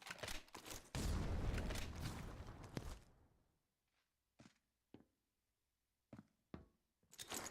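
A grenade blast and gunfire in a competitive shooter match: a loud, sustained roaring burst fading out, followed by scattered sharp single shots and thuds at irregular intervals.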